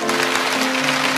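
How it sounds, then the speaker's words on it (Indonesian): A church congregation applauds in a steady, dense wash of clapping over sustained musical tones from the service. "Berikan tepuk tangan untuk Tuhan."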